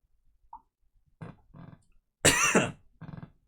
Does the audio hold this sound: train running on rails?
no